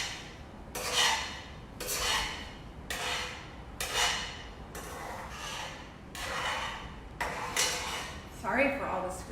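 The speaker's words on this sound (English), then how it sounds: "Sorry for all the scraping noise, it's very loud." A spatula scrapes eggs across a breakfast skillet in repeated loud strokes, about eight evenly spaced scrapes, close and harsh, with no talking over them.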